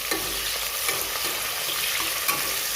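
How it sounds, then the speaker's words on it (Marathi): Sliced onions roasting in a pan over medium heat for veg biryani make a constant close sizzle, with faint spatula knocks now and then. No speech. "कांदा हा मध्यम आचेवरती आपल्याला भाजून घ्यायचा आहे चांगल्या प्रकारे"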